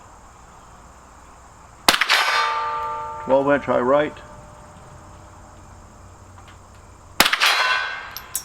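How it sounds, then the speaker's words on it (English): Two sharp metallic clangs ring out several seconds apart as bullets strike a steel gong target at a shooting range, each impact followed by a bright decaying ring; someone speaks briefly between them. "we've got to try the gong first to see if it'll hit the gong"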